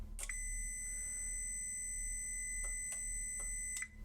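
Sharp electronic beeps from an ADS Braun LV 1020 speaker as its remotely switched power supply turns on, one short chirp then a few quick pips over a constant low electrical hum.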